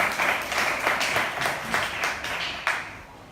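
A church congregation applauds in dense, continuous clapping that rises and falls in waves, with a sharp loud clap near the end.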